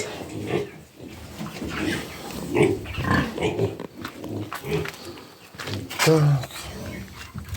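Nearby sow grunts and snorts, low and rough, come in short bursts, mixed with people talking.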